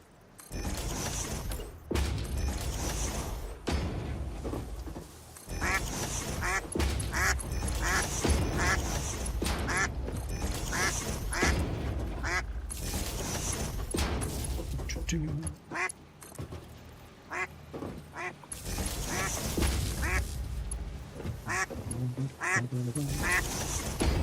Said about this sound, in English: The duck is going a bit crazy.